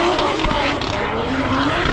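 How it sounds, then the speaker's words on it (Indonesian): Hyundai Ioniq 5 N electric car drifting on track, a loud continuous whine and tyre roar with rising tonal squeal, sustained throughout with voices faintly under it. "begitu udah adaptasi bagus ngedriftnya untuk ukuran mobil listrik"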